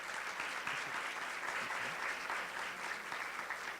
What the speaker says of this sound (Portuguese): palmas para a Adriana